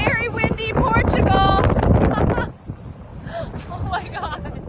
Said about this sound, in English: from very windy Portugal